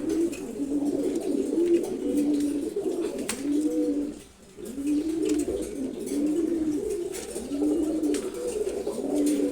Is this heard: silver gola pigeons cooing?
yes